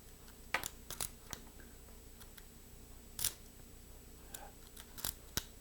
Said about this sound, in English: And it's got a really nice smooth shutter.